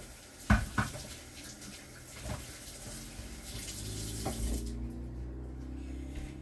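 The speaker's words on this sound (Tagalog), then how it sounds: "Tapos, ito, huhugasan din natin to guys." Running tap water pours over a tin can being washed in a kitchen sink before opening, with a few sharp metallic clunks of the can early on, then steady flowing water that cuts off near the end.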